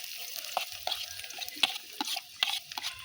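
Chopped ginger, garlic and onion frying in a pan for a fish dish, soft crackling sizzle broken by repeated scraping stirs of a spatula, close and quiet with no talking.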